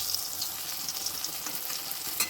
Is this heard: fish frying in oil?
yes